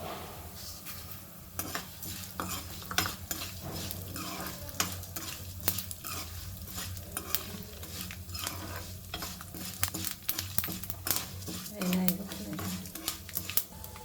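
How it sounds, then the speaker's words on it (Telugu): Lentils, cumin and coriander seeds stir-fried in oil for a Chennangi leaf spice powder, with a steady close sizzle and repeated spoon scrapes and clinks against the pan throughout. "ఇది ఈ ఆయిల్లోని ఇవి మిక్స్ చేసేస్తున్నాను"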